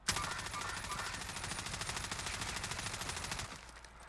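Rapid automatic gunfire in Call of Duty Warzone, a steady stream of shots fired aiming down sights for about three and a half seconds, loud and dense, then cutting off into quiet.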